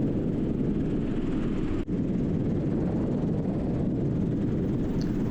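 A helicopter flies on a tour over Hawaii, its engine and rotors making a constant heavy roar with a brief dip partway through, loud and steady from inside the cabin, no voices.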